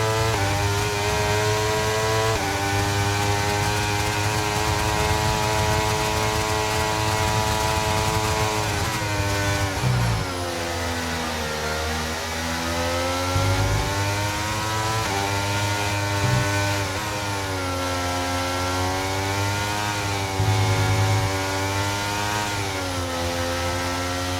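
Ferrari engine revving hard in a racing video game, a loud continuous mechanical drone that rises and falls with gear changes throughout, with no talk over it.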